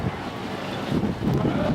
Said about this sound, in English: the ocean breeze blowing